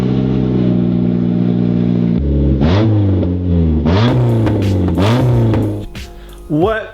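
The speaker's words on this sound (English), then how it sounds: "Have you guys ever heard Mazda 3 with no exhaust on it from the cat back?" A Mazda 3 with its exhaust removed from the cat-back idles loudly, then revs repeatedly in rising and falling surges, raw and close, with a final sharp blip.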